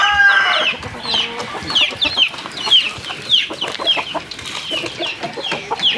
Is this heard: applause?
no